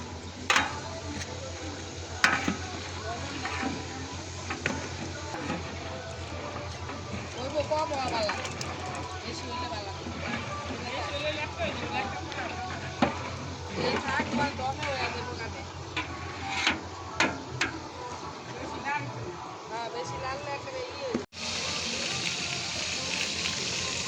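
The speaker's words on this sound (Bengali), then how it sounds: "রোস্টের জন্য এখনও ভাজা হয় নাই অর্ধেকটা ভাজা হয়ে গেছে বাকিটা আছে এখানে সব লেগ পিস" Chicken leg pieces frying in a pot for roast give a steady, hissing sizzle with scattered pops, while people talk over it throughout.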